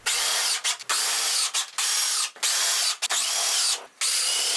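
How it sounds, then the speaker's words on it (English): A power drill drives screws into camper walls on a trailer frame in a series of loud, close, whirring bursts of about a second each, separated by brief gaps. No one speaks. "Here I'm screwing the walls to the trailer frame"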